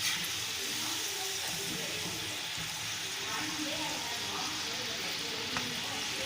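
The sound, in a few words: kodubale bubbling while frying in oil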